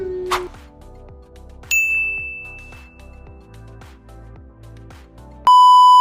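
A bright bell ding rings out, followed by a sustained chime and then a steady electronic beep tone over soft background music.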